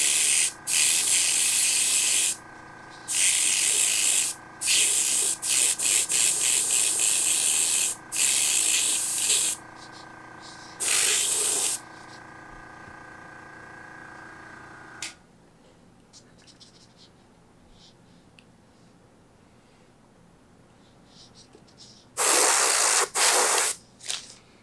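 An airbrush sprays a baby blue coat onto the bottom of a crankbait, with loud hissing bursts of varying length broken by short pauses, then a long quiet gap before a final burst.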